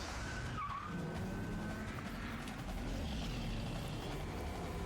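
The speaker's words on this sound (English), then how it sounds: "The jet car easily cleared all 12 buses" A jet car in a video game drives and skids with a sustained engine roar and tire squeal, heard at moderate distance and fairly quiet, with no talk.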